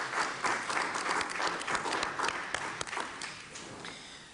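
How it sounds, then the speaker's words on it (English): A committee hearing room breaks into a steady round of applause for Mr. Crawford, many hands clapping together at moderate loudness for several seconds with no talk over it. "I think we should all give Mr. Crawford a great round of applause for his wonderful service to the committee"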